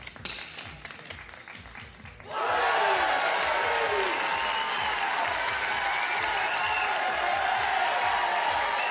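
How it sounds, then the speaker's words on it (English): At a Paralympic men's 50m rifle three-positions shooting final in Paris, a sudden burst of loud crowd applause and cheering erupts after quieter murmuring and keeps going steadily to the end. "Those huge cheers."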